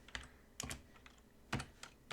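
Typing on a French computer keyboard during a software workshop, a few soft scattered key clicks and taps in irregular bursts, close by and fairly quiet, with no talking.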